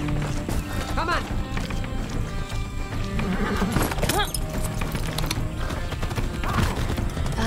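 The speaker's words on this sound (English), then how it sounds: "That's a good horse." Horse hooves clip-clop steadily through a Far Cry gameplay ride, with neighing whinnies rising twice at moderate loudness over a dense game soundscape, and voices talking in between.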